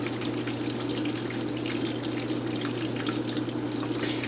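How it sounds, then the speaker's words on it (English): Liberty 257 sump pump running with a steady low motor hum while water rushes continuously through the pipe, a smooth, even flowing hiss close by. "all you hear is the water actually flowing through the pipe now"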